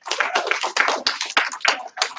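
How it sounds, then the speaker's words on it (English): A group claps and stomps in quick, uneven bursts, loud and close, a brief flurry of rhythmic hits with no talking. "Give her 1 clap, 2 stomps, say you're awesome."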